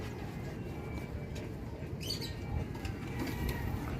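Pigeons on a rooftop deck of a house give soft, low cooing murmurs with a brief flutter of wings partway through, all fairly quiet and close, with no talk.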